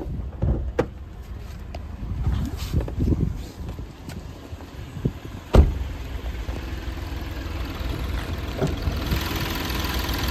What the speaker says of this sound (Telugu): సైలెంట్ ఉంది ఇంజను.